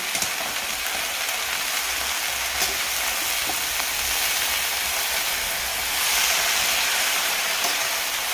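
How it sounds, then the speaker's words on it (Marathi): Fresh chickpea greens (harbhara bhaji) sizzle steadily in a hot pan as they are stirred, a continuous close hiss with faint scraping and no talking. "आपण आता ही भाजी हलवून घेऊ."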